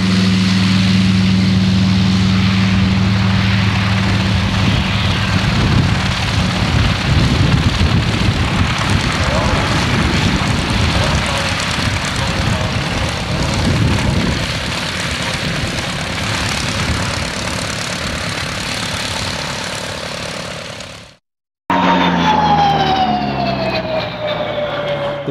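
A CAC-19 Boomerang fighter's Pratt & Whitney 1830 Wasp radial engine roars loudly and steadily as the plane gets away, a constant close drone for about twenty seconds, then a brief cut to a whining, rising engine tone.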